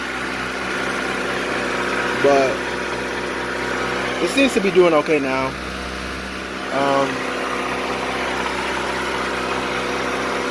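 A D16-swapped 1991 Honda Civic EF idles steadily after a cold start, a low even engine hum running throughout while someone talks over it in short bursts.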